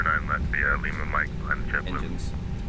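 Airbus A321neo jet engines from an X-Plane 11 engine sound mod give a steady roar and whine, while a person talks over it.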